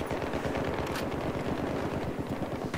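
Sustained full-auto fire from an AUG rifle in Battlefield 3 comes as a dense, rapid, unbroken stream of loud shots across the whole clip, with no voices over it.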